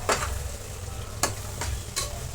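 Masala fried and stirred in oil for a village-style Kolhapuri mutton rassa, a steady close sizzle with a few distinct scraping stirs of the spoon cutting through it.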